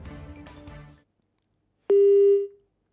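A single telephone busy tone sounds as the phone line to a reporter drops during a live news call about an earthquake in Uttarkashi, a steady electronic beep after a moment of silence.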